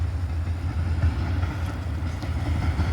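A long freight train rolls past, a steady, loud rumble of railroad cars with faint clacking of wheels over rail joints, continuous throughout with no voices.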